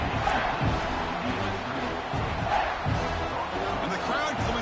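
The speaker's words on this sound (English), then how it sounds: "And the crowd coming to life here, trying to help this defense down in the red zone." Stadium crowd noise roars steadily in the College Football 26 video game, a dense, constant wall of cheering fans near the red zone, with a commentator talking over it throughout.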